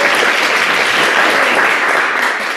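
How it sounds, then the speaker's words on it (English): Loud, sustained audience applause at a startup show-and-tell venture event, many hands clapping in a dense even wash that tapers slightly at the close, no talking. "give us a round of applause"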